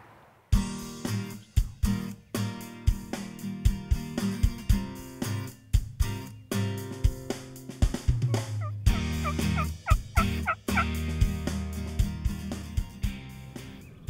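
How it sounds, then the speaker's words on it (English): A wild turkey tom gobbles during a spring hunt in Michigan. Loud, rattling gobbles repeat again and again in quick succession, filling the whole stretch. "But with a tom gobbling in the background, Jenny elected to pass on th"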